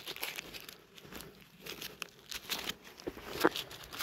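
Firework packaging is unwrapped up close, giving soft crinkling and tearing of wrapper material in irregular bursts at a quiet level.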